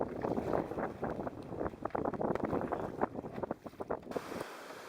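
Strong, gusty wind buffets the microphone while a paddler crosses a lake, a continuous rumbling roar with surging peaks and splashing water, cutting out abruptly near the end.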